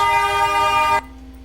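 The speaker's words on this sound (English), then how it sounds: "train noise." A train horn blares steady and loud with a rich, buzzing chord, then cuts off abruptly, leaving a lower rumbling rail noise and a faint lingering tone.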